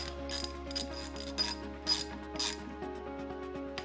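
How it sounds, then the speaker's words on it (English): A ratchet wrench tightening a bolt while building a Toyota A340F-based AW4 automatic transmission, giving a series of quick clicking bursts over a steady low hum, close and clear. "I'm going to tighten this bolt."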